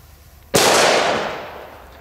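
A Hammer H1 firecracker explodes once with a loud, sharp bang, followed by a long rolling echo that fades over about a second and a half outdoors.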